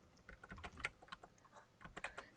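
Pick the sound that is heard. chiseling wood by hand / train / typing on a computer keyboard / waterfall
typing on a computer keyboard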